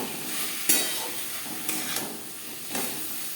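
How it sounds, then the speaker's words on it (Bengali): Chicken with spices and carrot stirred in a pan, where three spaced scraping strokes stand out over a soft, continuous sizzle and hiss, close by. "2-3 মিনিট মশলার সাথে চিকেন নাড়াচাড়া করে নেওয়ার পর দিয়ে দেবো গাজর।"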